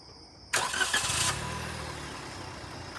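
A car engine cranks and catches abruptly with a loud burst, then settles into a steady idle hum. No one talks.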